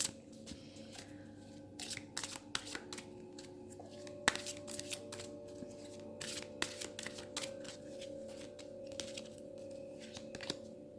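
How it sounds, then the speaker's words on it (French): Gaia oracle cards being shuffled by hand, a rapid series of crisp riffling flicks and slaps in bursts, close and fairly quiet, with no talking. "Et je vais tirer une carte de l'oracle de Gaïa."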